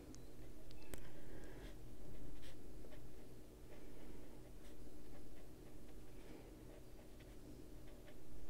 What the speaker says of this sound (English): at least the nib of that pen works well in there